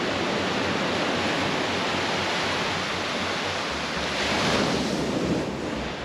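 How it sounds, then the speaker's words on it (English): Ocean waves crash steadily against the Maui shore, the water dark with soot and burnt wood after a wildfire, a dense continuous roar swelling slightly near the end with wind noise. "The famous blue Maui water, now black with soot and burnt wood crashing against the shore."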